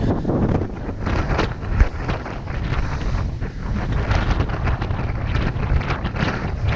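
Strong wind on Patara Beach buffets the microphone throughout, a steady rough rumble with gusty surges and no voices.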